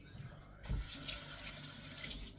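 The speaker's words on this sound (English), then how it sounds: "Giving my hands a quick rinse because they're all peachy." A faucet is turned on after a brief quiet start and runs steadily into a sink while hands are rinsed under it. The rushing water is close and fairly loud.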